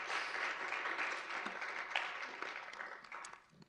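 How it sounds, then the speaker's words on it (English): Applause from an audience for a city mayor at a youth initiative civic event, a fairly faint, steady patter of many hands that tapers off toward the end. "Let's give another round of applause for Mayor Mahoney"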